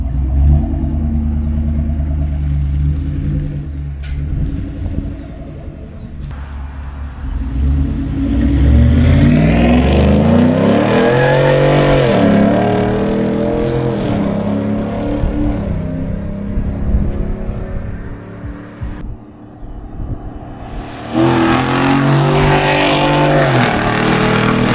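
A 2024 Ford Coyote 5.0 V8 with a Corsa Extreme exhaust idles with a deep burbling rumble, then revs up sharply to a loud rising roar and falls back, before a second strong rev at the end.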